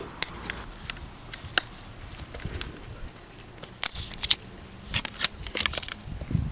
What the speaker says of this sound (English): So first step, remove the label.